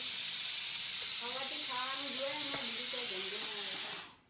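A loud, steady hiss of steam venting from a pressure cooker runs throughout, with a voice speaking over the middle before the hiss cuts off abruptly.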